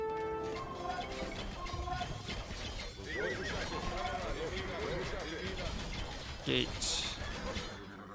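Horses in a medieval strategy video game neigh and whinny several times over quick clip-clopping hooves, along with other game sound effects, all at fairly low volume.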